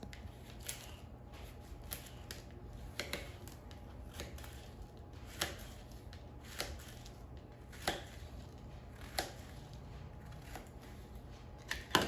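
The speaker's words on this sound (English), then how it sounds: "I sliced it lengthwise into quarters, and now just cut it into pieces" Knife cutting quartered zucchini into pieces on a cutting board, a series of soft, evenly spaced taps over a quiet kitchen hum.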